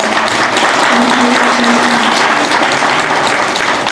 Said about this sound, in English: Can you please give both of them a huge round of applause?